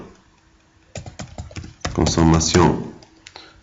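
Keystrokes on a computer keyboard while entering text into an Excel spreadsheet, a quick run of close, crisp taps, partly overlapped by someone speaking French.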